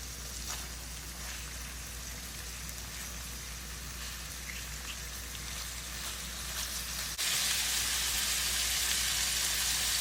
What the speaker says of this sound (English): we have all the fish parts in the pan. We're gonna cook them for 2 to 3 minutes